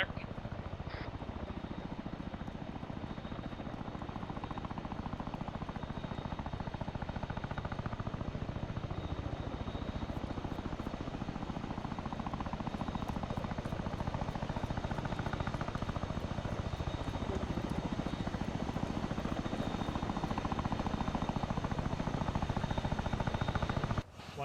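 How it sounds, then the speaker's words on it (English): A Chinook helicopter during an airborne military exercise: a loud, continuous rotor thrum and engine drone that holds steady for the whole stretch, close by, with faint voices beneath it. "Section move to the Brimstone"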